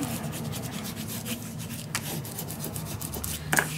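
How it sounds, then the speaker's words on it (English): Paper on a scrapbook mini album being burnished: close, steady rubbing strokes with a dry scraping texture, repeated without pause and with no speech. "Burnish this down."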